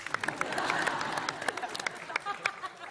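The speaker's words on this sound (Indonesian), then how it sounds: "Tepuk tangan dulu dong untuk aplaus." A studio audience applauds on a talk show, a brief crowd clapping that swells then thins into scattered claps, moderately faint with voices mixed in.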